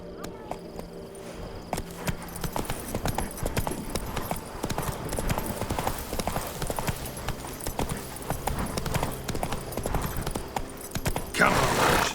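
Hooves of Roach, a horse in The Witcher 3: Blood and Wine, clip-clop in a quick, steady gallop, moderately loud over faint crickets, with a brief whinny-like burst near the end.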